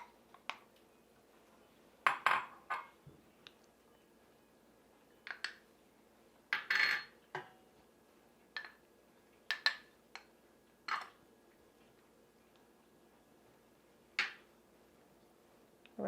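Shredded Colby Jack cheese, Parmesan and butter balls are stirred into a meatloaf mix, heard as sporadic sharp clinks and scrapes of a utensil against a bowl, separated by quiet pauses.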